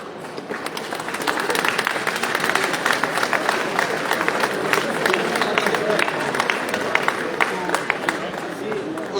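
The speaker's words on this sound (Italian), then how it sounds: "I want to give out the applause to all of you guys" Audience applause fills a car tuning show at Expo Tuning in Italy, honouring a modified-car contest winner: dense, steady clapping from a large crowd held at an even loudness, with voices mixed in.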